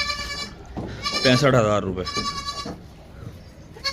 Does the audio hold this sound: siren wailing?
no